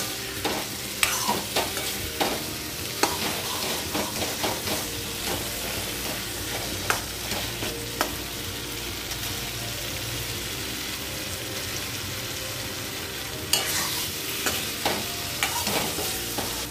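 Partly boiled jackfruit seeds sauté with spices in a pan, a steady sizzle broken by repeated spoon-scraping stirs and clinks, close and fairly loud.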